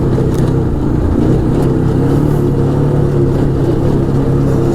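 An Arctic Cat Wildcat 1000X side-by-side engine drones loud and close during a test drive, a steady throaty roar with no break for the whole stretch.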